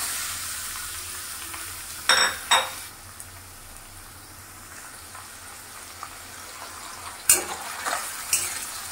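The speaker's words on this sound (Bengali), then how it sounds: "চিংড়ি মাছগুলোকে হালকা করে একটু ভেজে নেব।" Shrimp fry in a little mustard oil seasoned with turmeric and salt, a low steady sizzle broken by a few sharp clinks of a utensil against the pan, with no one speaking.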